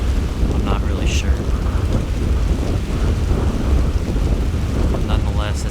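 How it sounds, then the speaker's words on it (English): Strong wind buffets the microphone outdoors in a loud, continuous low rumble and roar that surges slightly but never lets up, with no talk over it. "As you can tell, we have a strong wind."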